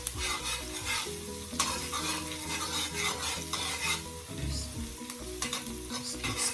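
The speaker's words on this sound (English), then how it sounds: "I leave these to fry for about a second or 2." Shrimp and ginger frying in a pan over low heat for jerk shrimp fried rice, a steady close sizzle with stirring scrapes, continuous throughout with no talk.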